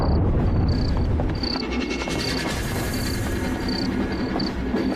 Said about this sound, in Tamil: ட்ரெயின் ரொம்ப ஸ்பீடா போயிட்டு இருக்கு.